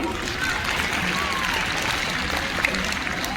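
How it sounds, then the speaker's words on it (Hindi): Sustained applause from an audience at a Hindi poetry recital held for Republic Day, a dense, even wash of clapping that holds steady throughout with no pauses. "ये तालियों का शोर सुनकर दिल जितना खुश हुआ"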